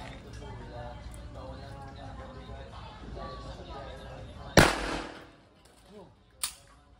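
Two .45 pistol shots ring out during steel plate shooting, a loud sharp crack followed by a smaller second report, with talk before the shots.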